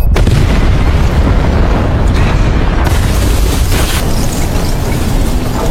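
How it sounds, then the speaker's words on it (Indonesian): A bomb going off inside a bunker: a loud, dense, rumbling blast that fills the whole stretch with sustained roaring noise and low booms, no voices. "Ya, ternyata Ujang membawa sebuah bom yang diledakkan di dalam bunker tersebut."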